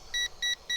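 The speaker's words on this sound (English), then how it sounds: "Also in headless mode, you do get a beep as well." An Eachine 520S folding GPS quadcopter gives a warning signal of three short, evenly spaced electronic beeps, clear and close, with nothing else sounding around them.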